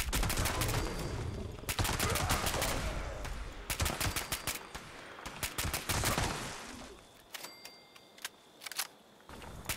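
Rapid automatic fire from a B25 legendary Handmade rifle in Fallout 76, loud bursts of sharp explosive cracks that thin out into scattered single shots and faint metallic clinks toward the end.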